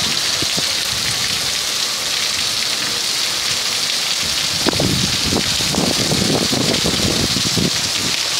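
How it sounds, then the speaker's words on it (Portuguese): Torrential rain pours down in Coração de Jesus after 40-degree heat, a dense, loud, constant hiss of drops drumming on surfaces, with heavier spattering in the second half. "Chovendo torrencialmente em Coração de Jesus, depois de uma temperatura de 40 graus."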